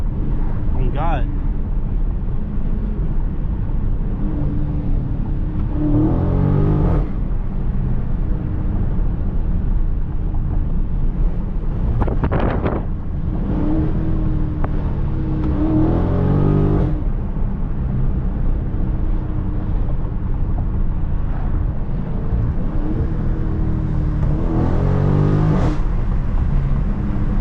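A Last Call Scat Pack widebody engine pulls hard in low gear, a loud, steady exhaust roar with repeated rising revs, close to the cabin, while someone talks over it.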